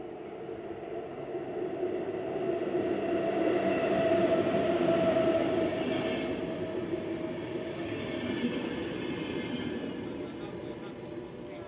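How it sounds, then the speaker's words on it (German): A Finnish VR InterCity train pulls into Helsinki's terminus station with a steady, heavy rumble that swells and then slowly eases, carrying a faint metallic hum and a distant, echoing background. "Dort kommt schon unser Zug."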